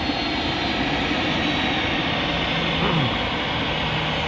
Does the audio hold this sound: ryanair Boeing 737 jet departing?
yes